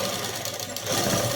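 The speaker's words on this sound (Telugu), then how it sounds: "ఇలా కుట్టుకుంటూ వచ్చేసేయాలి." A home sewing machine stitches fabric for a dress, a loud close rapid mechanical whirr with steady needle chatter running throughout.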